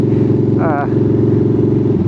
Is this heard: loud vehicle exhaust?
yes